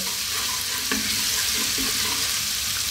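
Aromatics being stir-fried in oil over high heat, a steady loud sizzle with occasional scraping stirs and small pops, close and continuous with no talking.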